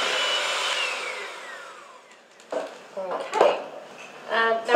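Red velvet cupcake batter being mixed with food colouring, a whirring electric mixer that winds down, then clinking and scraping of a bowl and utensils, with a voice talking briefly.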